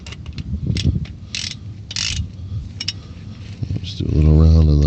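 Ratchet wrench snugging flywheel bolts on a 1986 GMC Sierra, a series of short clicking bursts under a voice, ending in a louder mechanical hum.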